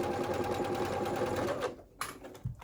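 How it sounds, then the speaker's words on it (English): Sewing machine running across tank top shoulder seams, a steady, close mechanical whir that stops partway through, followed by a couple of light clicks and knocks. "let's go ahead and sew across those shoulder seams"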